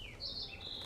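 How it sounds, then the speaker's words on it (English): Birds chirp outside in Life is Strange, a few faint, thin high calls drifting over a quiet ambient background. "I do hear birds chirping out there, though."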